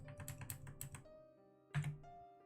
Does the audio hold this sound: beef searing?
no